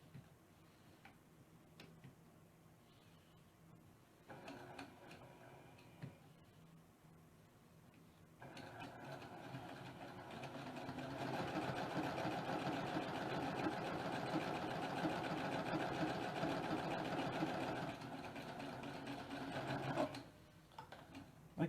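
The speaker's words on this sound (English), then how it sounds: "I'm going to flip it over and sew." Sewing machine stitching quilt half-square triangles, opening with a few short bursts and clicks before settling into a long, steady, loud run of rapid needle chatter that stops near the end.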